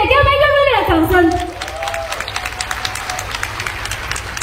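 An audience at a business event breaks into applause that follows a brief spoken introduction, settling into a steady wash of clapping from a crowd at moderate distance.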